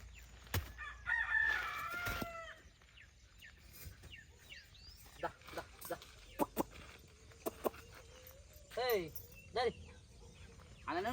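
Roosters crow several times, rising and falling calls near and farther off, with scattered clucking chickens and faint background voices.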